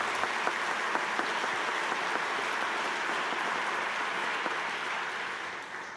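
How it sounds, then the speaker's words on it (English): An audience claps for the organizers at a book festival prize ceremony, a dense, steady wash of applause that holds evenly and eases slightly toward the end, with no talking. "let's please give them a richly deserved round of applause"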